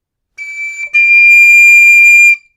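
A tin whistle plays two sustained high notes in its third octave, a shorter one followed after a brief gap by a longer one, both pure, shrill and loud, with nothing else heard.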